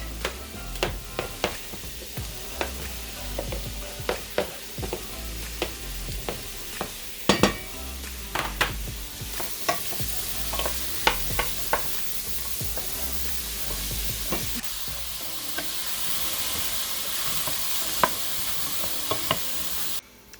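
Mushrooms, celery, onion and garlic sauté in a pan with a steady sizzle, broken by frequent scrapes and clicks of stirring; the frying grows louder and denser in the second half, with no talking.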